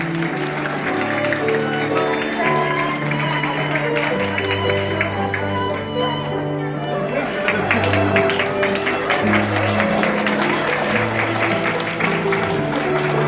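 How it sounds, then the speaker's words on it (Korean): Wedding guests give a long stretch of dense applause under steady music, with some voices and a bit of cheering mixed in. "뜨거운 큰 박수 부탁드리도록 하겠습니다"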